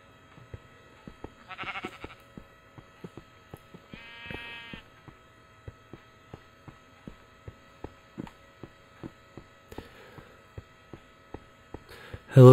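Sheep bleat twice in Minecraft, short wavering calls over a steady rhythmic ticking of game footsteps and a low ambient hum, the animals close by and fairly clear.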